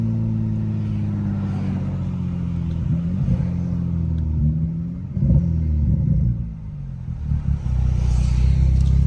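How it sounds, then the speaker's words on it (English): A BMW F10 535i with an N55 engine and aftermarket intake idles with a deep, steady rumble, then is revved in several short blips that rise and fall, the intake note swelling loud and close with each rev. "I know y'all hear that intake, man."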